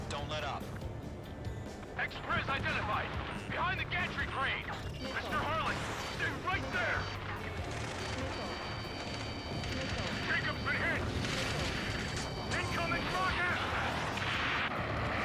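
Heavy gunfire and artillery rumble through a combat mission in the jet game Ace Combat 7, with dense booms and shots layered under shouted radio chatter throughout.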